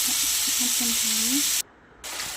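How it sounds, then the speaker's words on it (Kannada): Chicken pieces frying in oil in a pan with onion and turmeric, a loud continuous sizzle, briefly cut to near silence before resuming. "ಚಿಕನ್ ಹಾಕ್ಕೊಂಡು ಫ್ರೈ ಮಾಡ್ಕೊಂಡಿದ್ದೀನಿ"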